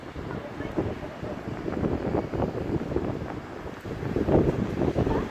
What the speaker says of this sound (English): Well, it's quite windy, as I'm sure you can hear.